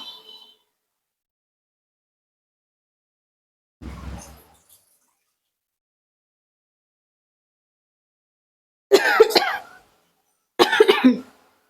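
A person coughs indoors in short separate bursts, first a lone low cough, then two sharper coughs close together, with silence between them.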